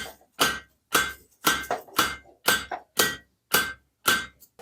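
Steady hammer blows ring on metal, about two per second, each strike sharp and bright with a short ringing tail, close and loud.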